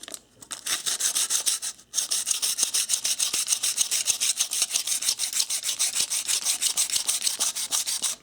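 Tissue rubbed back and forth over a steel knife blade coated with mineral oil, a close, steady scratchy rubbing in quick rhythmic strokes with a brief pause near the start.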